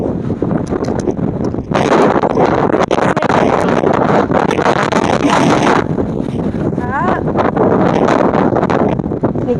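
Strong wind outdoors near a gate roars and buffets the microphone in loud, uneven gusts, with bursts of rushing noise and some voices in the background.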